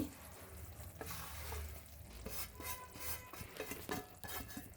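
Semolina (rava) is stirred in a pan over a low flame, giving soft, close scraping and a gentle sizzle with light utensil clinks, all faint.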